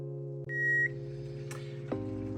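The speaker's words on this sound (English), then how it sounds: "Okay, Alex, my timer's gone off for the first 30 minutes" Kitchen timer going off beside a cooking beef broth, a single short high electronic beep over a steady low appliance hum that shifts pitch near the end.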